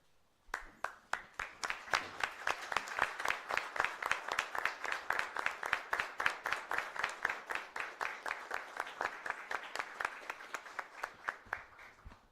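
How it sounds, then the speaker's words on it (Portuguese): People in a municipal council session clap in unison, keeping a quick, regular rhythmic beat that holds for about twelve seconds. The clapping starts sparse, swells to a steady pulse, then tapers, with no voices over it. "nós vamos os aplaudir pelo feito que vocês têm feito para a gente aqui"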